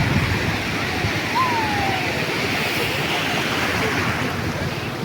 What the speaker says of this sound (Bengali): একের পর এক ঢেউ একের পর এক ঢেউ